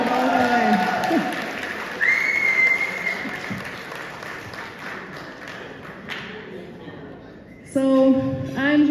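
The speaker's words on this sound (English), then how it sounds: "Another special applause for her, for making it all the way." An audience applauds at a celebration, a steady wash of clapping with a whistle and some voices. It swells again loudly near the end.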